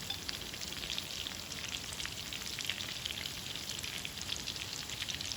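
Shrimp tempura frying in hot oil, a steady close crackling sizzle with dense tiny pops, like rain on a surface, continuous and fairly loud with no voices.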